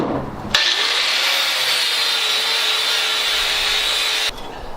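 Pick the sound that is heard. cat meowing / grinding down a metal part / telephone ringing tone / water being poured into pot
grinding down a metal part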